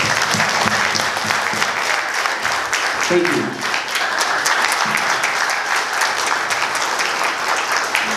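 Audience applause for a speaker at an Eritrean political gathering, a dense steady clatter of many hands close by for the whole stretch, with a brief spoken thanks over it.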